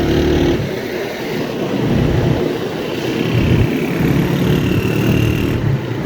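A United 125 2019 model motorcycle being ridden, its small engine droning steadily with some wind rush, close and fairly loud with no voices.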